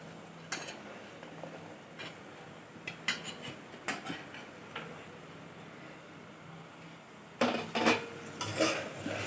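Diced potato, carrot and beans are stirred in oil in a pan for a vegetable kurma, giving sporadic metallic scrapes and clinks of a spoon against the pan. Short bursts are separated by quieter pauses.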